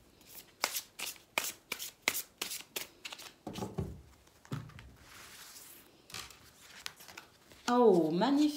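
Tarot cards are shuffled by hand in a quick run of crisp, regular riffles and slaps, then looser softer shuffling, ending with a person talking close by.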